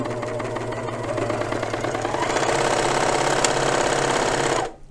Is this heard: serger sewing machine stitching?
yes